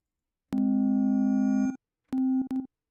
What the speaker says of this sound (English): That same like glassy sound.